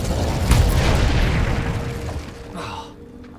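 A fiery Incendio spell bursts out with a loud whooshing roar in Hogwarts Legacy, a broad crackling blast that holds for about two seconds before fading into a softer flare and trailing off.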